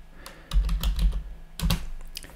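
Quick bursts of typing on a computer keyboard, a handful of close, light key taps in two short clusters with a gap between, no voices.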